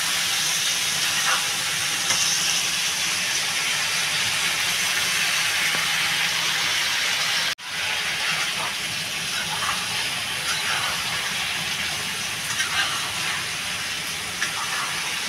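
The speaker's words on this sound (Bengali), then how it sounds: "ঝিঙে আলুটা আমি ভালো করে কষিয়ে নেব।" Ridge gourd and potatoes frying in a pan with green chillies for a Bengali rui fish curry, giving a steady, dense sizzling hiss that fills the whole stretch with one brief dropout partway through.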